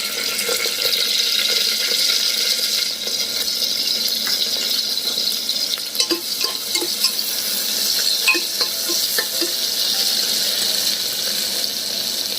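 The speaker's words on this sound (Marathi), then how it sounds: "आता आपलं तेल तापलेलं आहे त्यामध्ये आपण घालणार आहोत बारीक कापलेला कांदा" Finely chopped onion fries in hot oil, sending up a loud, continuous hiss with crackling and occasional stirring clinks across the whole stretch, no voices.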